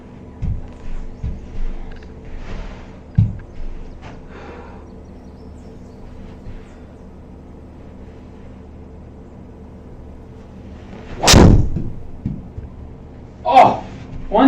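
A golf 3-wood strikes a ball on a swing-speed training session with one sharp, loud crack partway through, followed later by shorter bursts of sound; someone talks in the quieter stretches.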